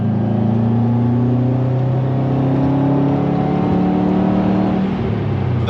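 Close inside a Subaru Forester STI SG9, the engine revs up under acceleration with a rising drone that climbs and eases off between gear changes, loud and continuous.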